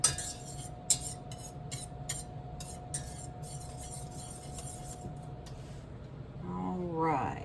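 Metal utensil clinks and scrapes against a pan while peanut butter and jelly wings are mixed and cooked in butter, a few sharp clanks early on over a steady low cooking hiss, ending with a short burst of talk.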